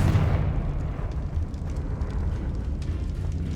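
A Confringo fire spell explodes in Hogwarts Legacy, a dense low rumbling blast that stays loud and sustained through the whole moment, with no voices.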